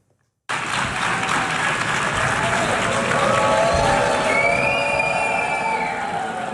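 Applause mixed with booing from delegates in the UN General Assembly hall as a speaker takes the podium, a dense, steady roar of clapping and crowd noise holding at full strength throughout.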